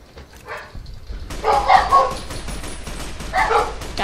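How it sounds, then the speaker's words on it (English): Several dogs bark and yip in a burst of overlapping, fairly close barks, with a second flurry near the end; no talk over them. "Shut up, you stupid dogs."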